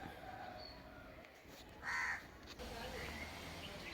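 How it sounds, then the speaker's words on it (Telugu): A crow caws loudly once at close range over a steady background hum, with faint outdoor ambience around it. "ఒక కాకి కోసం ఇంకో కాకి"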